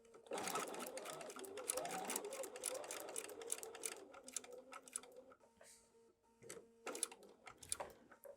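A sewing machine stitches a small piece of fabric for foundation paper piecing, a busy mechanical whir of rapid needle strokes that runs steadily, then slows into shorter bursts, with faint voice in the background.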